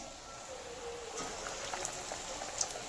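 Pav vada, a Maharashtrian bread-and-potato fritter coated in batter, dropped into hot oil, giving a steady soft bubbling fry with faint crackles and a few sharp pops, close by and with no talk.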